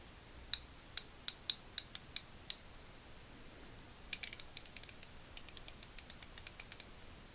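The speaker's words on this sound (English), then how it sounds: "And this is what it looks like when it's ratcheting." A Gearwrench 90T quarter-inch drive ratchet, partly disassembled, ratcheting in close-up: two bursts of crisp, fine clicks, first evenly spaced and then a quicker irregular run, in a quiet room.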